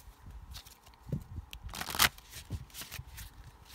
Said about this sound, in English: Let's get some more cards here.